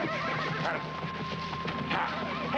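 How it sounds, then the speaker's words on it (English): A wild horse on the 1970s western sitcom Dusty's Trail gives a loud, close neigh over a background of clopping hooves and a steady tonal hum, short and vivid. "I got myself a wild horse."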